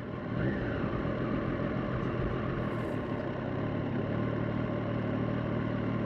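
Triumph Street Triple 765 RS motorcycle engine running steadily on a race track, a dense, loud, continuous drone heard close up with no talking.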